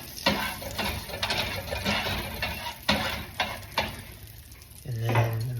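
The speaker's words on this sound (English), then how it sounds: "use your thing to kind of move the butter around so it gets all over the skillet here" Butter for buckwheat cakes sizzles in a hot skillet as a utensil scrapes and knocks it around, in bursts of quick clatter over a soft frying hiss that swells louder near the end.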